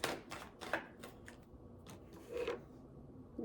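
Tarot cards are shuffled and drawn from the deck, giving a quick series of soft, papery riffles and slaps, close and fairly quiet, with no voices.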